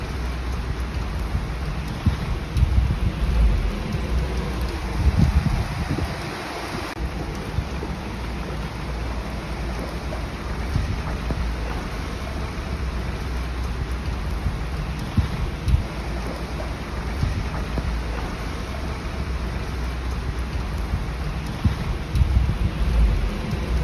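A storm with heavy rain and thunder over Riga, a loud, steady wash of rain with low rumbling running throughout and no voices.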